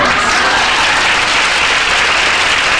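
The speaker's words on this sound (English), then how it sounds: "This coupon is worth 1 round of applause." A round of applause from the audience at a magic show, loud, dense and even clapping that fills the whole stretch without a break.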